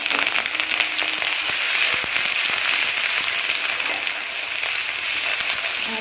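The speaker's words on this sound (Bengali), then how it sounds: "আর দেখো তেলটা গরম হয়ে গেছে, আর এই যে দিয়ে দিচ্ছি রসুন আর এই যে আদাটা।" Garlic and ginger frying in hot oil in a home kitchen give off a steady, bright sizzle with small crackles, close and continuous throughout.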